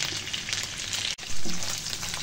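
Beef sizzles and crackles in hot oil for black pepper fried meat, a brief steady hiss at moderate loudness with a short break midway.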